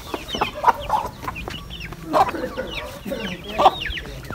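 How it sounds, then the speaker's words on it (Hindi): Domestic chickens kept at a village home cluck and squawk close by while grain is scattered for them, with several short bursts of calls among softer background clucking. "ये देखिए हर तरफ मुर्गियाँ मुर्गियाँ, अभी ये मुर्गी को दाना बुनकर डाला जा रहा है।"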